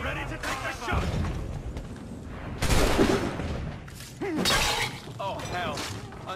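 Gunfire and glass shattering ring out during the Battle of Bunker Hill mission in Assassin's Creed 3, with loud bursts of musket fire and crashes mixed under voices shouting in the game.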